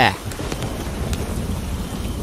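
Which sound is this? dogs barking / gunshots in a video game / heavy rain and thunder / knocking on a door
heavy rain and thunder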